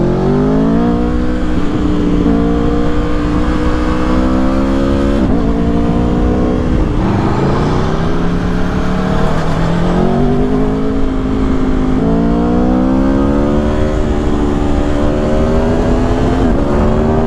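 An Aprilia Tuono V4 Factory 1100 motorcycle engine under way, loud and continuous, repeatedly revving up through the gears and dropping back between shifts, with no talking.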